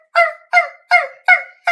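A human voice imitates a toy puppy's bark with five evenly spaced, nasal honking yaps, loud and close with brief silences between them.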